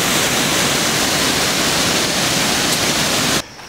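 Water rushes over a small dam on a creek, a loud, dense, continuous roar that holds steady and then cuts off abruptly just before the end.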